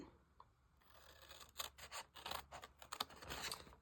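Scissors snip through card along score lines, a quiet run of short crisp cuts and rustles following a soft scraping lead-in, close and without any talk.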